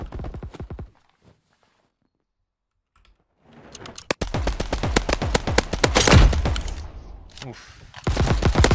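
Rapid bursts of gunfire in the Mini Royale video game, a loud, dense barrage of sharp shots that breaks a short silence and keeps crackling almost without pause, with a brief exclamation from a player.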